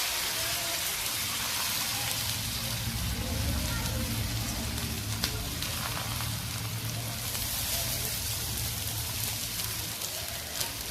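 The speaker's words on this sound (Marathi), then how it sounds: "तवा चांगला गरम झालेला आहे आता त्यावरती मी ही भाकर टाकते" A bhakri flatbread cooks on a hot, oiled tava, giving a continuous crackling sizzle like rain on a surface. It holds even for the whole stretch, with a faint low voice underneath.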